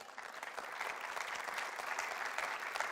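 A church congregation bursts into dense, steady applause that holds evenly for the whole stretch, a broad wash of clapping hands filling the room.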